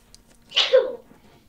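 A single sharp human sneeze bursts out mid-clip, close and fairly loud, against a quiet background during a gaming session.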